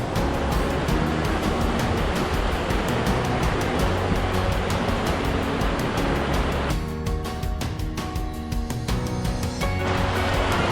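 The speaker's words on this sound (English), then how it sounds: "That's some steady flowing rapids" Stream rapids along a forest hiking trail flow steadily with a broad, constant rushing wash of water. The sound is close and full and stays unbroken throughout, with no voices.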